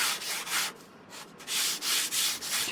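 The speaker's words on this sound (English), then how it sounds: "If you've got a block, sandpaper block, then obviously it's a little bit quicker." Sandpaper rubbed by hand along the edge of a wooden glider, a close, rhythmic rasping in about eight back-and-forth strokes with a short pause in the middle.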